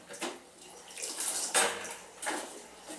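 Dishes and utensils are scrubbed and handled in a kitchen with no running tap, giving scattered clinks and soft wet scraping and splashing in short bursts, quiet and close.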